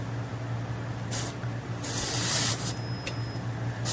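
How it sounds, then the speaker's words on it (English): Short bursts of air hissing out of a tire valve, sharp spray-like releases standing alone against a low steady hum, fairly close and moderately loud. "I did let some air out of that tire"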